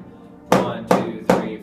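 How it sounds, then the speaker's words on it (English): Snare drum strokes from a nine-stroke roll rudiment practice: three sharp, loud, bright hits spaced evenly about every 0.4 seconds, each ringing briefly, heard alone with no talking. "Now we're going to do the 9-stroke roll."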